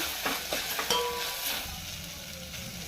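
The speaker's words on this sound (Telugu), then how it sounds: "సో ఇవన్నీ ఒక 2 మినిట్స్ బాగా వేయించుకోవాలండి." Spices, including ground cumin, fry in a pan for a Telugu fenugreek charu (rasam), giving a soft, continuous sizzle with light stirring scrapes and no talking.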